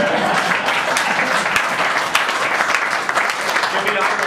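Audience at a political town hall event clapping steadily and fairly loudly throughout, a dense wash of hand claps with some voices mixed in.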